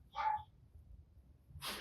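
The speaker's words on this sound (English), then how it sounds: "There is a dog barking." A neighbourhood dog gives a single short bark in the distance, faint against quiet outdoor room tone, followed by a brief hiss of noise.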